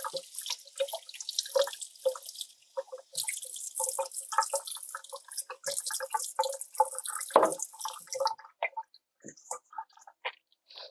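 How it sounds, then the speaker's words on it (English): Cold water poured into dough for Jamaican beef patty pastry, a light trickle with scattered drips and soft wet squelches close by, quiet and broken into short bursts, with a brief pause partway through. "I think we could add a little bit more water to it"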